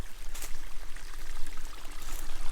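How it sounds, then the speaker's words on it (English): Water running steadily into a forest lake, a continuous broadband rush and trickle heard close by, with no voices over it. "So this is where the water flows into the lake."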